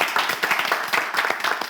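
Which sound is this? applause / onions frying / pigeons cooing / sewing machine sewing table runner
applause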